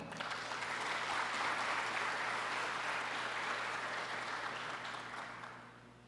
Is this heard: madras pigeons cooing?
no